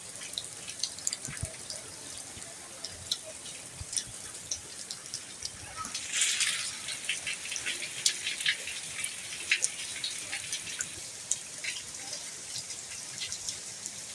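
Rain on a rural farm in the Brazilian sertão during an afternoon downpour, a steady hiss of falling water with scattered drips and splashes and a brief louder spatter partway through.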